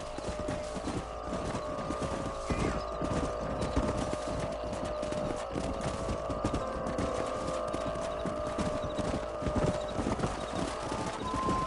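Horses clip-clop steadily through a PS4 game scene, hooves trotting in a continuous rhythm with an occasional neigh, loud and close over ambient game sound with no talk.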